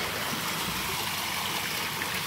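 Water from a backyard koi pond waterfall pours continuously in a steady, close, broadband rush with no pauses, alone and without speech.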